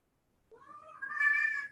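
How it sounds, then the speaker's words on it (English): A kitten gives a single drawn-out meow, rising and brightening as it goes, heard close and alone in a quiet room. "that was my kitten in the background there"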